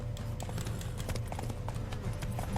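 Horse hooves clip-clop in a quick, even rhythm in The Witcher 3 video game, close and continuous with a low rumble beneath and no talking.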